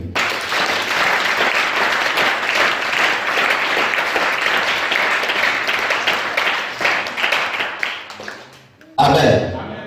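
Church congregation applauding, sustained dense clapping for about nine seconds that thins out near the end, followed by a voice speaking.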